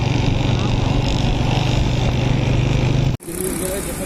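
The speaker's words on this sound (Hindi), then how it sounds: "दूसरी बाइक भी स्टार्ट हो चुकी है" Motorbike engine idling and revving loudly close by, a steady rumbling drone that cuts off abruptly near the end and resumes at a different pitch, with a voice talking over it.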